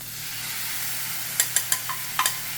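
Pad thai stir-fried in a hot pan just after the sauce goes in: a steady, moderate sizzle with a quick series of sharp spatula scrapes and clacks near the end, no talking.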